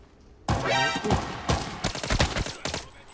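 A sudden burst of gunfire and a grenade blast in the video game Arena Breakout rattle in rapid bursts, loud and close, with a few sharp follow-up shots.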